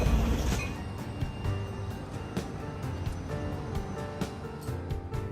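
A commuter train between Montréal and the South Shore passes LaSalle station, its wheels clacking rhythmically over rail joints with a loud, steady rumble and occasional metallic squeal nearby.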